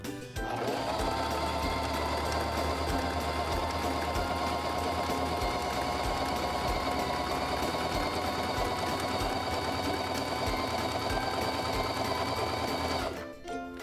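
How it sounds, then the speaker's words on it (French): A Singer 3232 sewing machine stitches a buttonhole, running steadily and close with an even mechanical whir for about thirteen seconds before stopping abruptly. "Abaissez le pied à boutonnière et appuyez sur le rhéostat pour débuter la couture."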